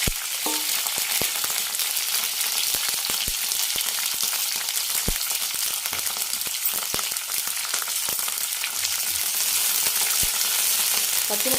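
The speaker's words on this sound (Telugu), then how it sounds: "పచ్చిమిరపకాయలు ఎరగదీసి వేసుకోవాలి" Slit green chillies and coriander seeds fry in hot oil for a Telugu green chilli and tomato chutney, a steady dense sizzle with scattered sharp pops and crackles.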